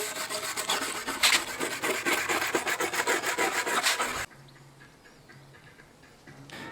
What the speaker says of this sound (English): This is the kind of wire brush that you use for welding.